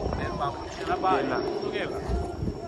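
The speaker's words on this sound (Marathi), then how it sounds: "अलिबागला हेलिकॉप्टर, अलिबागला हेलिकॉप्टर" A helicopter passes over Alibag as a broad, steady engine and rotor roar, with people talking loudly over it throughout.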